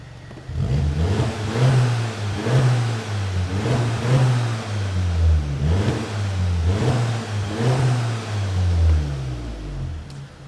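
A VW Golf GTI Mk7.5 with its exhaust backbox deleted revs repeatedly from idle, each rise and fall in engine pitch following the last in a steady rhythm, close and fairly loud with no talking.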